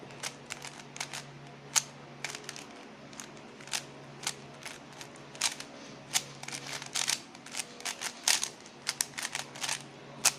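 Rapid plastic clicking and clacking in uneven bursts, close and dry, as a puzzle cube's layers are twisted quickly.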